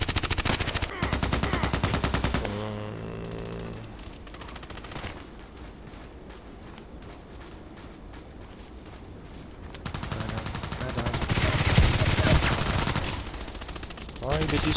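Pistol shots ring out in a sniping shooter game while long-range targets are engaged, with loud rapid gunfire at the start, quieter shots and game sounds in the middle, and another loud burst near the end.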